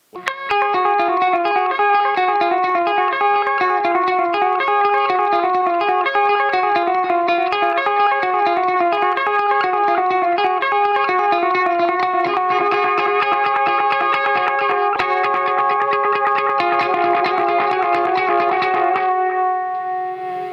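Electric guitar through a Poontang Boomerang Delay pedal playing a steady melodic line with sustained, echoing repeats trailing each note, dense and continuous throughout, fairly loud.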